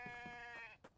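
A sheep bleats in a survival video game, one short nasal wavering call, fairly close and alone, ending with a soft click.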